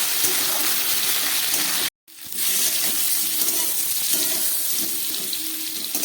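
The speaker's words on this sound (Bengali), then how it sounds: "আলু পটলটাকে খুব ভালো করে নুন দিয়ে ভেজে নিলাম।" Potatoes and pointed gourd frying with salt in hot oil, a loud steady hiss that cuts out briefly near the start and resumes, with faint stirring beneath. No one talks.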